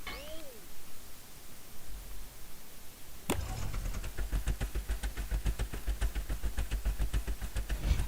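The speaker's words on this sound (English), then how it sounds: "So when I flip the switch, the engine turns on." A switch clicks in Scrap Mechanic and a game engine starts up, settling into a steady, rapid, evenly pulsing mechanical chug that continues at moderate loudness to the end.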